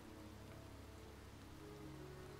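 Steady rain falls in the video game Heavy Rain, a constant faint hiss of drops on surfaces with no pauses, no thunder and no voices.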